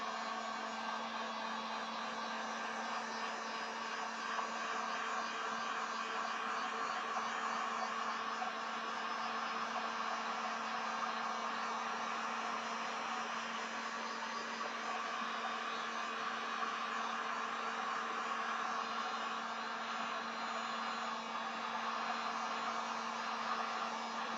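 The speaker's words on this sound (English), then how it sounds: "I'm going to use the heat gun and see if I can get some cells to start" A heat gun blows on an acrylic paint pour, giving one continuous, even whooshing hum with a steady tone that holds unchanged from start to finish, close and moderately loud.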